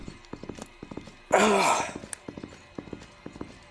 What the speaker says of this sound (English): Johnny Joestar, hurry up and get back on your horse